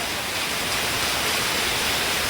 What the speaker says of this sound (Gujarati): જો કેટલો જોરદાર વરસાદ પડે છે